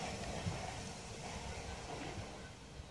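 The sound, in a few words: Southeastern Class 465/466 electric train departing station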